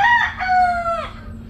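A backyard rooster, a tall, well-built young stag, gives a single full crow close by with no one talking over it.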